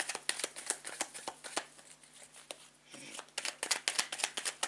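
A deck of tarot cards is cut and handled up close, giving quick papery flicks and slaps in irregular bursts with a short pause in the middle; no voices.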